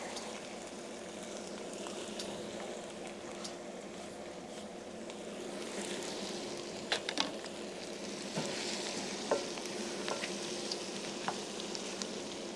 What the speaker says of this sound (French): On fait revenir les oignons quelques minutes, il faut qu'ils soient translucides.